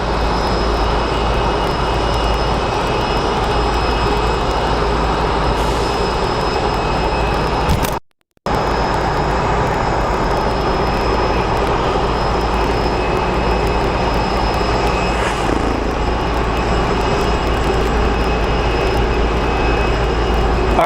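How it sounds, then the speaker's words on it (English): A jet airliner's engines roar steadily and loudly at Sky Harbor Airport, a continuous broadband rumble with a high whine that holds for about twenty seconds, briefly cut out near the middle. "see if another plane comes this way."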